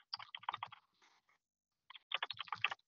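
Bursts of quick keystrokes on a computer keyboard, fast clattering clicks in two runs separated by a short pause, close and fairly quiet with no voices.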